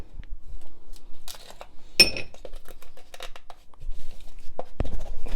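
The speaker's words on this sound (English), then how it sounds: "so we're gonna fill up the glass with ice" Ice cubes drop and clink into a glass while making iced coffee at home, with a sharp cluster of clinks near the middle and scattered lighter knocks and rattles around it, close and fairly loud.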